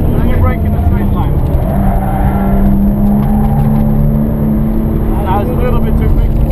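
A race car driven at full throttle around the Knutstorp circuit, a loud, constant engine drone heard from onboard with a steady high tone, while people talk over it throughout.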